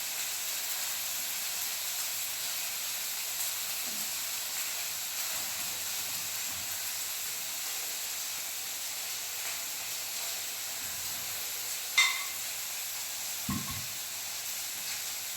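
Fish and chicken cooking on a tawa after being brushed with coconut oil, giving a steady, quiet sizzling hiss throughout with a couple of brief clinks and knocks near the end.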